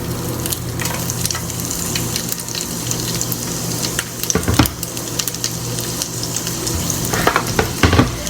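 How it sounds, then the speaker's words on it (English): Garlic sizzles and crackles in a pan of melted butter, a steady close frying hiss broken by stirring scrapes and a few louder pops. "now that all the butter's melted, I'm gonna add in the garlic."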